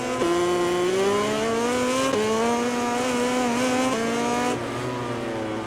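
Upgraded KTM racing motorcycle in the MotoGP 20 game, a loud close engine whine climbing steadily in pitch through several gear changes, each shift dropping it briefly before it rises again.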